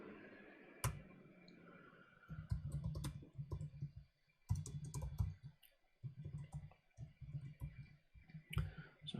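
Rapid clicking of computer keyboard keys typed in bursts with short pauses, close and fairly quiet, no voices.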